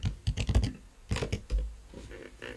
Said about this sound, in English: Let's just type up their main keyword,